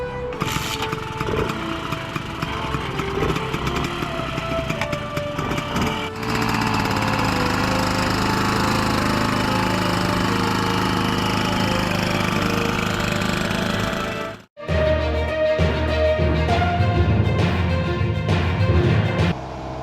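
A restored Bultaco 155 motorcycle's two-stroke engine fires up and runs, a loud, close, rough steady drone that briefly cuts out near the end before catching again and carrying on.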